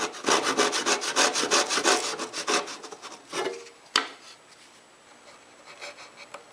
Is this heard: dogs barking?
no